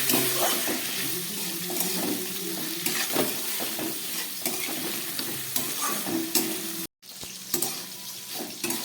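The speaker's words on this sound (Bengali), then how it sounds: "মোচাটাকে খুব ভালো করে একটু ভেজে নিলাম নারকেলের সঙ্গে ছোলা দিয়ে।" Banana flower with coconut and chickpeas frying in a pan, with constant sizzling and frequent stirring scrapes. The sound drops out briefly near the end, then resumes.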